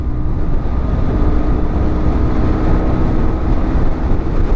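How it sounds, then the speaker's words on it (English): A BMW sport touring motorcycle cruises at normal RPM in high gear on a group ride, its engine a steady loud drone blended with heavy wind rush at the microphone. "you can hear the engine, but it's not buzzy like you would when you're pushing it"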